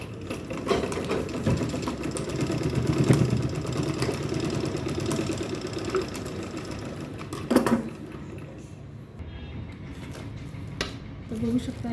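A sewing machine stitches a travel bag in a steady mechanical whir with a rapid needle rhythm, running near and continuous, then stopping briefly with a few clicks near the end.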